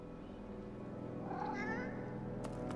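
A skeletal cat in Divinity: Original Sin II gives a single rising and falling meow partway through, clear above a steady low game ambience, with no talk.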